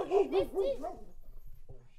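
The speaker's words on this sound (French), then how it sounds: "Il y a un chien énorme qui vient" A huge wolf-like dog arriving in the countryside, giving a wavering, howl-like cry up close for about a second before quiet background noise takes over.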